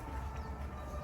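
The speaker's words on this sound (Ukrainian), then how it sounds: "Сирена, типу, повітряна тривога, але це просто швидка." A distant ambulance siren wails steadily through a city street on the left bank of Kyiv, faint and continuous with low traffic rumble beneath it.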